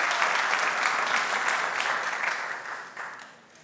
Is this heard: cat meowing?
no